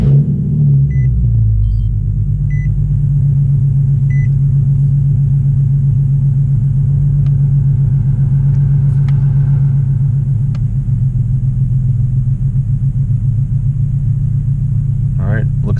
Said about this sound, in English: Now I'm going to start it up and see if the light comes on after we did the cleaning.